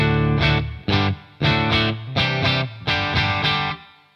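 Electric guitar through a Revv D20 amp recorded via direct tones from a Two Notes Torpedo, playing sustained distorted chords in short bursts with brief gaps between strums, loud and close with no other sounds.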